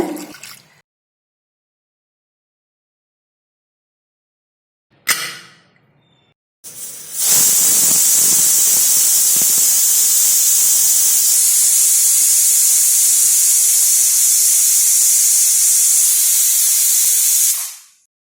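After two brief puffs, a pressure cooker of moong dal in water lets out a loud, shrill whistle of venting steam that hisses steadily for about ten seconds before cutting off.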